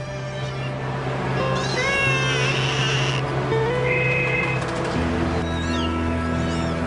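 Several kittens with an upper respiratory infection meow repeatedly, their cries rising and falling in overlapping calls close by, over a steady low background hum.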